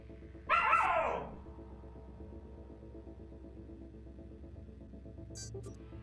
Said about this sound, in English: I hear a dog every now and then.